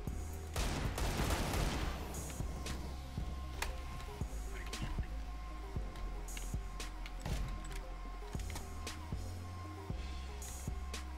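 Desert Eagle pistol shots in Counter-Strike: Global Offensive: a burst of sharp cracks early on, then scattered single reports over a steady low game rumble and distant gunfire.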